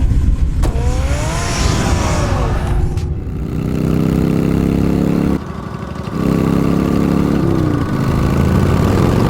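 The Batmobile from a Batman video game revs and drives off, its engine droning in a steady loud hum with a pitch shift and brief dropout, following a sharp sweep of effects at the start.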